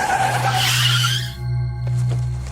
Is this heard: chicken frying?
no